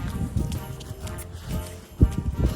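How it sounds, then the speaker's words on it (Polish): Horse walking nearby, hooves clip-clopping in an uneven rhythm with a few heavier thuds, amid low background noise and a faint voice. "Dobrze, już jest koń, chodź do konia."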